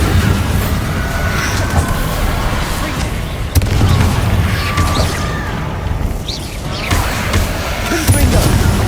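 Hogwarts Legacy spell combat with Bombarda blasts, deep booming explosions and crashing impacts over continuous game music, loud and close, with voices shouting in between.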